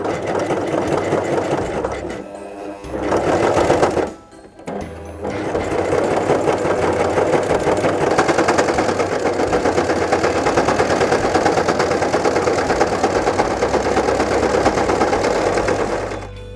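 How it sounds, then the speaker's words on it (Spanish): A Brother CV3550 coverstitch sewing machine stitches fabric with a loud, steady, rapid mechanical whir that runs almost throughout, broken by a brief pause partway through. "coloca tu tela alineándola con el principio del prensatelas y continúa cosiendo"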